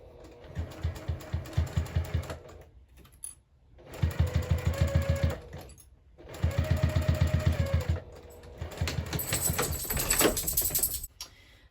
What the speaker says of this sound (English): we're going to go ahead and just sew that closed. So we'll make sure to back stitch at the beginning and end of our stitching line.